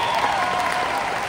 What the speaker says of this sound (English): So kudos to Daniel, let's give him a round of applause.